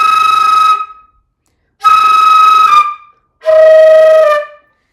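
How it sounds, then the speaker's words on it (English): A flute played with flutter tonguing gives three loud, sustained, buzzy notes of under a second each, separated by short silences, with the last note pitched lower than the first two. "flutter tonguing is when you make sort of a distorted flute sound"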